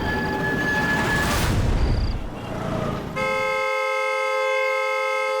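A vehicle horn blares in one steady, unbroken tone and keeps sounding after earlier muffled street noise and faint beeps fall away.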